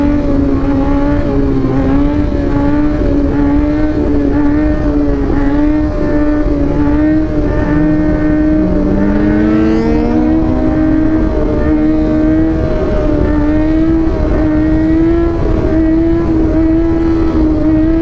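A motorcycle engine held at high revs through a long wheelie on a freshly redone road, a loud, close, sustained drone that wavers slightly in pitch and runs without a break under wind noise.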